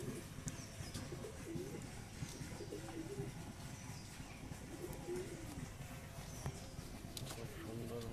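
Pigeons coo softly and repeatedly inside a high-flying pigeon breeding loft where chicks have hatched, with low murmuring calls and faint chirps over a steady background.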